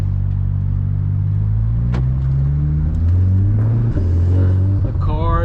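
A tuned MK7 Volkswagen Jetta GLI 35th Anniversary accelerates through its gears in a parking lot, the engine rumble climbing in pitch, dropping at shifts and rising again, loud and close from inside the car.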